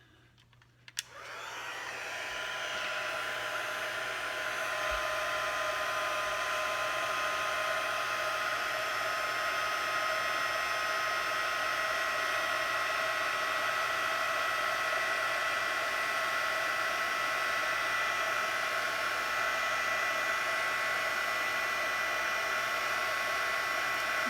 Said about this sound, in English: to emboss it with your heat gun